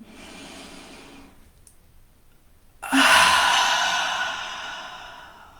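A single deep breath: a soft inhale, a brief pause, then a long, loud, airy exhale that fades slowly, close and alone.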